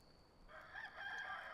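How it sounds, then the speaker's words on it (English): Rooster crowing in the video game Enshrouded, a single drawn-out crow rising after a short quiet start, clear and alone over faint background hiss. "There goes the rooster."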